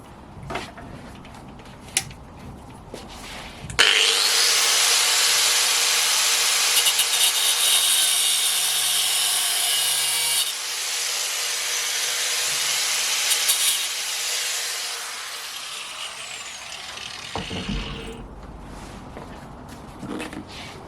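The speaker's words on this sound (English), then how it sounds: "cut and flap disc it some more, like this" Power tool cutting and flap-disc grinding a wooden spear, a loud, continuous abrasive whine close up for about fourteen seconds, with faint handling noises before and after.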